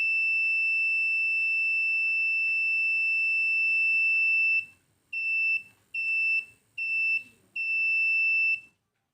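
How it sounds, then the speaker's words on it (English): A buzzer siren on an IR-remote-controlled IoT project with LEDs, fans and an LCD sounds a steady high electronic tone for several seconds, then four short beeps, loud and alone. "If all the LED and fans are on, then we will get a buzzer sound along with heavy power consumption mode."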